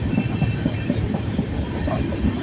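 A train rolls past close by with a dense, steady rumble and faint rhythmic clatter of wheels on track, filling the whole stretch without pause.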